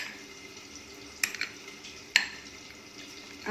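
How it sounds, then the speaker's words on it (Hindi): Potatoes and pointed gourd being stirred and mixed in a pan for a dry sabzi, a steady low sizzle with a few sharp scrapes and clinks of the spoon against the pan. "इसे अच्छी तरीके से मिक्स कर लेंगे।"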